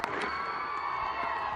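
A large cricket crowd cheering and roaring at a Test match in Rawalpindi after a batsman reaches 150, a dense, steady wash of far-off voices and whoops.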